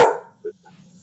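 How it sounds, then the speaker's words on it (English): Indoor pet dogs barking: one loud bark at the start, then a shorter, quieter bark and a faint yip at half a second, over a low background hum. "Ruby and Rocky are barking"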